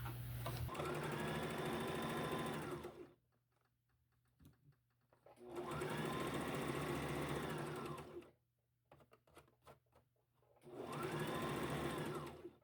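A sewing machine stitches sleeves onto the front of a top, running in three steady bursts of a few seconds each with quiet pauses between, close and even.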